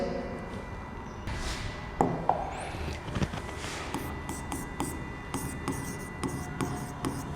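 A board eraser rubs out writing on a classroom board in a physics lesson, giving scraping, rasping strokes in bursts, close and fairly loud, with no talk.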